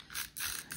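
A tape roller dispenser is pulled across paper in three short bursts, each a close, quiet ratcheting whir with brief pauses between.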